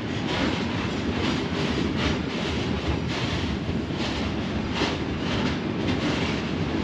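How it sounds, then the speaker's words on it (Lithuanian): A passenger train with seven wagons rolls in alongside, giving a close, even roar of wheels on rails with faint rhythmic clacks throughout and no voices. "Ir šalia dar atvažiuoja keleivinis traukinys."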